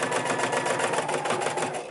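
A sewing machine stitches a fabric face mask with a wire in it, a continuous rapid close mechanical whirr with a fast needle rhythm running throughout.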